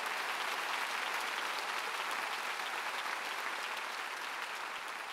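A large church congregation applauding at a revival meeting in a gymnastics stadium, a loud, dense, unbroken roar of clapping from a big crowd that holds steady throughout.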